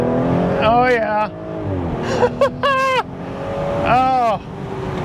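A 2022 Audi S5 Cabriolet in sport mode accelerates hard through rising gears, its engine note climbing in loud repeated sweeps with brief pauses between shifts, close and prominent under a man's speech.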